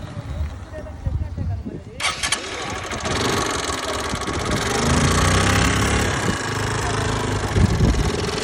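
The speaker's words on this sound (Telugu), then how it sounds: "సో ఒకసారి బండి స్టార్ట్ చేయ." A two-stroke-era? no—motorcycle engine, a Honda Unicorn or Hero Glamour treated with Sundar Carbon Antidote Plus, cranks and catches near the two-second mark, then settles into a steady, fairly loud idle with a slight rise, voices faintly underneath.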